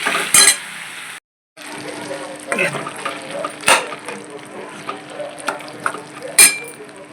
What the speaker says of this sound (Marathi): आता यांना स्टर करून, मिक्स करून, एकजीव करून झाकून ठेवायचं.